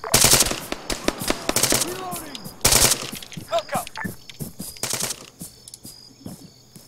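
Bursts of machine gun fire from the ARMA 3 video game, several sharp rattling volleys spread across the stretch, loud and close, with scattered quieter shots and faint voices in between.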